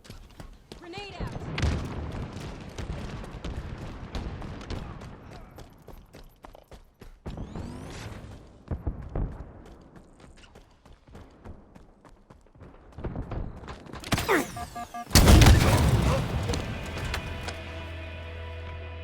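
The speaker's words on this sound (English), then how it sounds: "Tossing a nade." A thrown grenade in a shooter game detonates with a sudden, loud, close boom near the end, following scattered clattering game sounds and a voice talking throughout.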